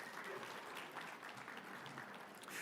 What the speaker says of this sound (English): Let's give them all a big round of applause with our love and appreciation.